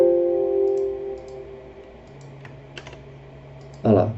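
Computer keyboard typing, with scattered soft key clicks over a steady hum and a short louder burst of rapid keystrokes at the end, used to enter an IP address on a computer during a Cisco Packet Tracer network exercise.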